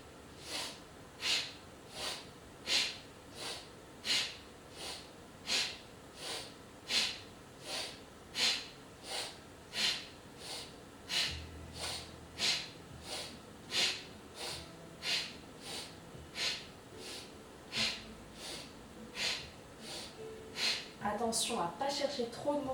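Rhythmic breathing during a kundalini yoga practice, with steady, evenly spaced inhales and exhales repeating about every second close to the listener, and a voice speaking faintly near the end.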